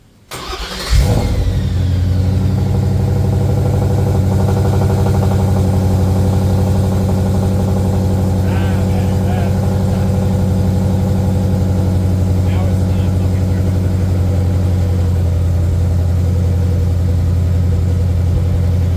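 A car engine cranks and catches after a moment of near silence, then settles into a steady, loud, close idle that runs on unbroken with little change in pitch.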